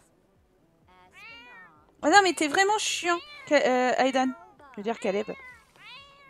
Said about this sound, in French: La ferme, les chats.